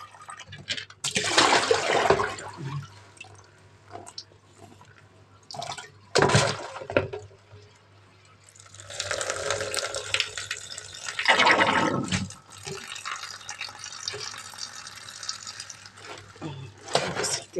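Swiss chard leaves are rinsed by hand in a basin of water, with several splashing, sloshing bursts and a longer churning stretch in the middle, close by with no talking.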